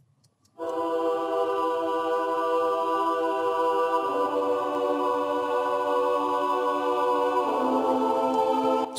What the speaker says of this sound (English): the choir sounds like this without the auto filter.